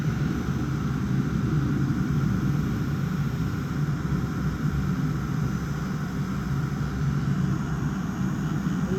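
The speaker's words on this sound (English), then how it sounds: "planes have been going over all morning." A steady low engine drone hangs throughout, like aircraft passing high overhead, constant and unbroken with no talking.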